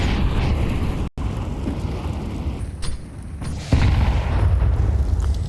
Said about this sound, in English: Malbs has been hit by 3 HE grenades in this round